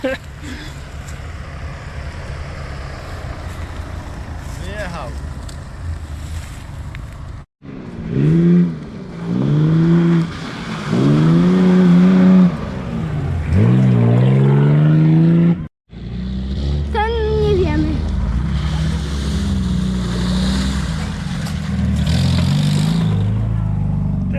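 Off-road vehicles at a dirt track in Brenna rev and climb in three cut segments, with engines rising and falling in pitch as they strain and accelerate nearby, and voices mixed in among the engine noise.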